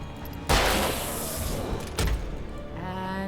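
Two heavy gunshots boom in the video game Alan Wake, each a sharp broadband blast followed by a rumbling decay, spaced about a second and a half apart over a droning game soundscape.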